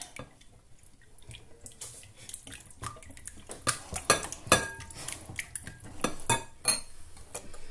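Butter and oil stirred together in a bowl for muffin batter, heard as a run of close, irregular metal utensil clinks and scrapes against the bowl, growing louder toward the middle.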